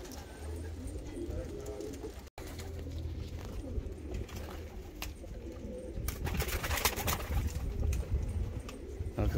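Nuremberg and other fancy breed pigeons coo steadily in a loft, soft throaty calls repeating close by over a constant background hum and occasional wing flutters.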